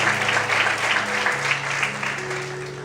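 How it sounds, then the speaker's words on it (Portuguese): A church congregation applauding during a worship service, a sustained wash of clapping from many people with a steady tone held underneath, lasting a few seconds without a break. "Quantos podem aplaudir o Senhor?"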